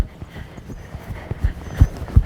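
Horse hooves clip-clop in a steady two-beat trot on firm ground, the footfalls close and growing louder toward the end, with no talk.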